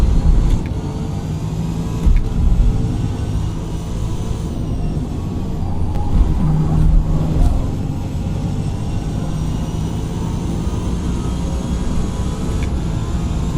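A Porsche race car engine roars steadily in Forza Motorsport, a loud continuous drone with brief surges as the car accelerates, running alone throughout.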